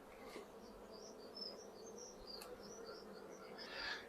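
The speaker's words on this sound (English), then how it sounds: "There's a few bees in there, but they're not doing anything." A steady, faint buzz of honey bees drones throughout inside a hive, with a few brief louder passes near the end.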